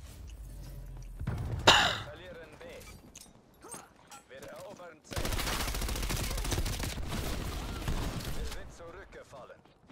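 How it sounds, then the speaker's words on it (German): Rapid gunfire in the shooter game Call of Duty: Black Ops Cold War, with a sharp burst early on and then a long, dense stretch of continuous shooting, mixed with breathy vocal sounds. "Alter, das ballert und knallt hier nur."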